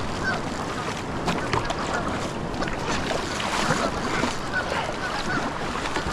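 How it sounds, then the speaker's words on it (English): Paradise ducks in remote New Zealand backcountry give a few faint, scattered honking calls overhead, nearly buried under a steady loud rush of flowing water. "We got paradise ducks flying overhead."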